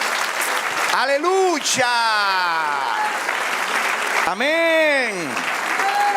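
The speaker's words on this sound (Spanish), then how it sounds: "Denle un aplauso al Señor." A church congregation applauds in a broad, steady patter while excited voices shout praise loudly over the clapping.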